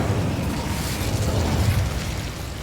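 An Incendio fire spell bursting in Hogwarts Legacy, a dense, roaring blast of flame with a deep rumble that holds steady and loud throughout, with no voices.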